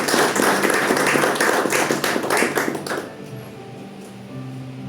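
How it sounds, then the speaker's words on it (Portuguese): Congregation clapping during a Sunday church service, a burst of close, loud applause for about three seconds that quickly fades into quiet room tone. "Você pode aplaudir a Jesus,"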